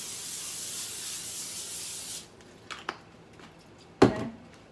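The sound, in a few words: spraying olive oil onto chicken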